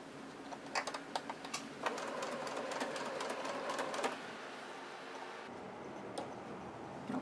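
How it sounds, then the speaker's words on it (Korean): A sewing machine stitching pressed pleats of an apron skirt, quiet rapid mechanical ticking in short runs with brief pauses, fairly close and alone. "주름을 잡은 치마를 위쪽에 두시고 저처럼 송곳으로 주름을 눌러서 노루발 밑으로 넣어주어 가면서 재봉을 해줍니다"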